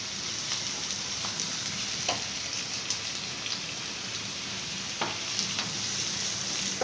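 Sliced onion crackles and hisses as it fries in a pan, giving a dense, even sizzle with occasional sharp pops. No speech over it.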